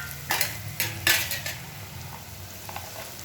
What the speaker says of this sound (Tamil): அது வரைக்கும் கொஞ்சம் சிம்மில் வச்சுப்போம்.